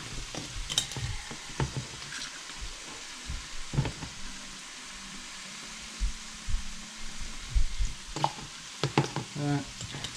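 A spoon stirs sugar and molasses in a cooking pan, with intermittent scraping and clinking strokes in irregular bursts over a soft background sizzle, close and moderately loud, no talking.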